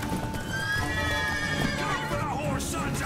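Horse whinnying and neighing during a fight in The Witcher 3, with hoof clip-clop, rising and falling calls over a busy game soundscape for about three seconds.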